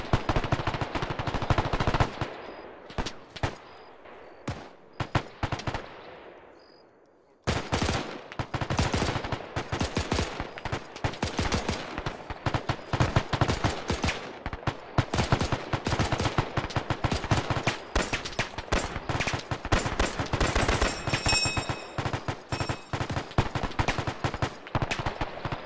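Machine gun fire in the World War II shooter Brothers in Arms, long sustained rapid bursts of loud, close automatic fire, a short gap of near silence, then continuous rattling fire resuming for the rest.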